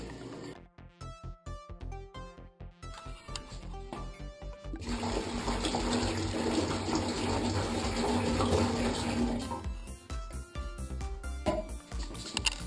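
Water splashes and gushes while a Camco 41545 portable cassette toilet is rinsed and dumped, starting with choppy sloshing bursts, swelling into a steady close pour, then breaking back into uneven splashes, with no talking.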